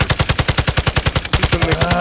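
Loud, rapid automatic gunfire from the video game Call of Duty: Modern Warfare II, a steady burst of evenly spaced shots that briefly falters and then continues without pause.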